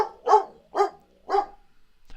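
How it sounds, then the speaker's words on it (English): A pet dog barks three times in a steady rhythm, each bark full and fairly close in a quiet room, with no talking over it. "That's my dog."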